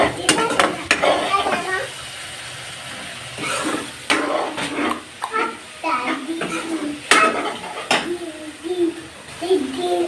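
Koi fish and green chillies are stirred and fried in a pan for a koi fish vuna, with repeated spatula scrapes and clanks against the metal over a low, steady sizzle.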